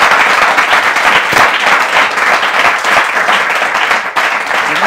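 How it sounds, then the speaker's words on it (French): A television studio audience applauds a guest's entrance with dense, steady clapping that stays loud throughout the short stretch. "Applaudissements pour l'entrée,"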